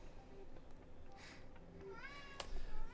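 A domestic cat gives a short, faint meow near the end, heard against quiet background game sounds.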